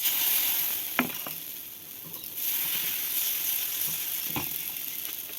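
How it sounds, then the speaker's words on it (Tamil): Ragi dosa batter poured onto a hot pan, a soft steady sizzle with a few sharp clicks and taps of a utensil scattered through, close and fairly quiet. "இன்னொரு தோசை ஊற்றி காமிக்கிறேன்."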